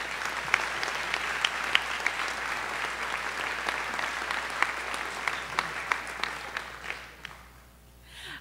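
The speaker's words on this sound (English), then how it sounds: "Please give all of our new members a big round of applause." Audience at a middle school honors program applauding new National Junior Honor Society members, steady dense clapping with sharper individual claps, fading out near the end.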